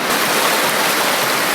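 Swift river water rushes past at a wilderness crossing on New Zealand's South Island West Coast, a loud, close, steady roar of flowing water with no voices.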